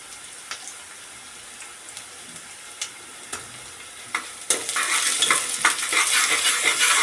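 Ginger-garlic paste hitting a hot pan and sizzling, preceded by a few sparse clicks and taps of a spoon or utensil, then a sudden bright, steady frying hiss with stirring scrapes that stays loud to the end.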